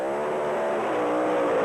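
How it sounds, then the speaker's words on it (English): A Chevrolet Beretta drag racing car roars at full throttle in a sustained, loud, rising blast of engine noise heard from the side of the strip. "Detso's in his Chevrolet Beretta, sponsored by Swiss cheese"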